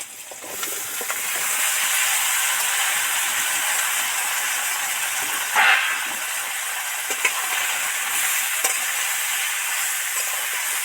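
Potato, pumpkin and tomato tipped into hot oil with fried onions for a pumpkin-potato kalia, giving a steady broad sizzle and hiss that swells at the start and holds throughout, with a few brief sharper spits.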